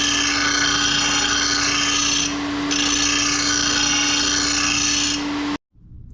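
A John Deere S140 riding mower blade gets its sharp edge filed by hand, a loud, steady metallic rasp of back-and-forth strokes that continues with a brief dip, then stops abruptly.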